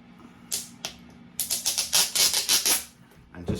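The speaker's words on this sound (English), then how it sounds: "I normally take the hype sticker off" A hype sticker is peeled off the shrink-wrapped Beatles Revolver super deluxe box set: a few sharp crackles, then a quick run of crisp tearing, clicking bursts up close, ending with a soft rustle.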